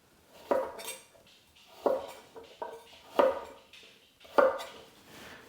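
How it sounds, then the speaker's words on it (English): Knife slicing carrots with an oblique rolling cut on a cutting board, five crisp, evenly spaced chops that knock against the board, heard close and alone. "For my carrots, I'm going to do an oblique cut or a rolling cut"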